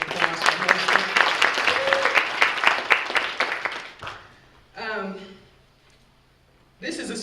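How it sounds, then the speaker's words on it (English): A room full of people at a town hall meeting claps in a loud, dense round of applause that fades out after about four seconds, followed by brief talking and a low hum. "Let's give them another round of applause for hosting."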